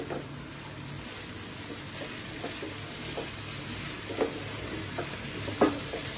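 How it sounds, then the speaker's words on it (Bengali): Prawns, cabbage and spices are stirred in a pan, giving a steady, close sizzle with soft scraping taps of the spoon every second or so, no voices. "এই মশলাটাকে মাছটাকে ভালো করে মিশিয়ে দিই।"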